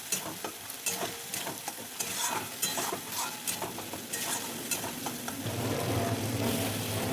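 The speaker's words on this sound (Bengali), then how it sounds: "একটু একটু করে জল দিয়ে কষিয়ে নিচ্ছি যাতে তেলটা না করে" Pointed gourd sautéing in a pan with splashes of water added bit by bit, a steady sizzle broken by repeated stirring scrapes and clinks, close and loud.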